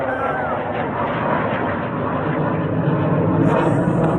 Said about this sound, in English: Oh, there's a plane going over. Fighter jets from the Air Force Base nearby,